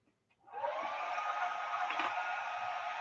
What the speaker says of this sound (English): I'm gonna turn on the blow dryer. I just use a blow dryer or hair dryer